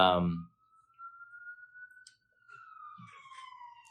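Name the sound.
ambulance siren passing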